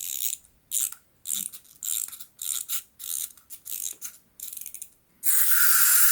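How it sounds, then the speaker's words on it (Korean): A toy robot's wind-up spring being wound, producing close, loud bursts of ratcheting clicks in about a dozen quick repeated strokes, ending in a sustained whirring buzz as the spring runs. "그럼 작동은 잘하는지 태엽을 한번 돌려보겠습니다"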